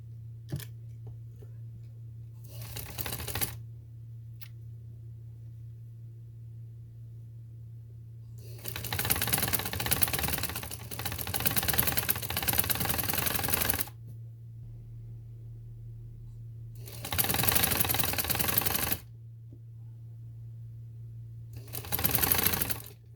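A sewing machine stitches sleeves in several separate bursts of rapid whirring, each lasting a few seconds, with quiet gaps and a steady low hum between them.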